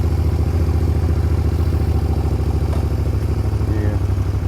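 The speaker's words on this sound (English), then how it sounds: "Let's start the bike and then we can see." A motorcycle engine runs steadily at close range, a loud, even throbbing idle that continues without a break throughout.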